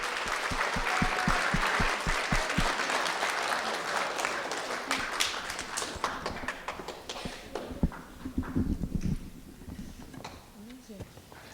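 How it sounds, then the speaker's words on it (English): Applause from the audience at a speech competition finals for 13-to-15-year-olds rings out loudly at first, then thins into scattered claps that fade under talk. "a big round of applause again for all our wonderful contestants"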